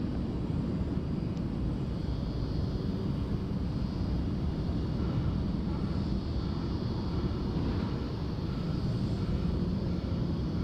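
An aircraft at Sydney Airport roars loud and steady, a broad rumbling jet noise that fills the whole stretch without a break, and no voices can be heard over it.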